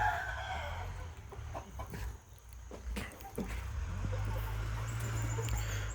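Burmese chickens clucking with a rooster crowing in an open free-range yard, the calls fairly near over a low background rumble, with short clucks scattered throughout and a faint dog or bird sound at times.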